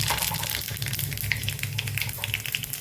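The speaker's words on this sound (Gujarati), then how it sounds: "તેલ ગરમ થઈ ગયું છે તો જીરું ઉમેરી દઈશું" Cumin seeds sizzle steadily in hot oil for a tempering, a close, continuous crackling hiss with small pops throughout.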